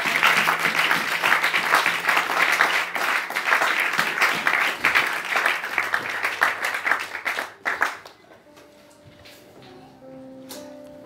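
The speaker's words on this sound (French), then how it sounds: "Quelqu'un va acclamer Jésus." A church crowd applauds and cheers for Jesus, loud sustained clapping that fades out after about eight seconds, leaving quieter background sounds.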